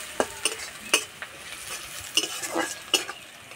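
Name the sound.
onion frying in oil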